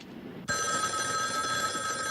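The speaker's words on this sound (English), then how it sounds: "I've tapped his phone so that when it rings, it'll ring at the station house, too." An old telephone bell in a horror film starts ringing abruptly after a quiet moment, a loud continuous metallic jangle that carries on steadily with no voices.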